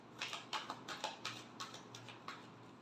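Tarot cards are shuffled close by, giving a quiet run of soft, rapid riffling taps and flicks in an uneven rhythm, with a faint hum beneath.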